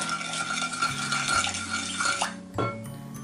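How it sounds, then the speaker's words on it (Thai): A spoon stirs sugar and salt into cold water and milk in a bowl, with soft clinks and swirling scrapes close by, fairly quiet and steady with no talk. "คนให้น้ำตาลทรายและเกลือ ละลายดีค่ะ"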